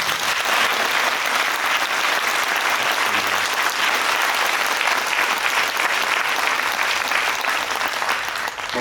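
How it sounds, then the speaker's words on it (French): Sustained loud applause from a conference audience for the technical team, a dense, steady wash of many hands clapping at once for nearly nine seconds with no voices on top. "un tonnerre d'applaudissements pour eux"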